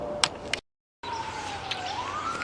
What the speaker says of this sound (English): the sirens and the fire engines are going again